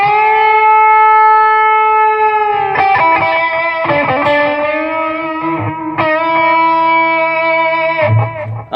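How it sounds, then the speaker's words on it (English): An electric guitar sustains a note and then bends a note on the third string, the pitch sliding up and back in several wavering bends with a distorted, effect-laden tone. The playing is loud and close, with no talking. "So string bending will sound like this"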